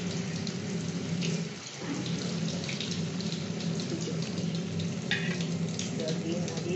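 Food fries with a dense, steady sizzle as a spoon stirs through it in a pan, close up and unbroken, for a rohu fish head and moong dal dish; no one speaks.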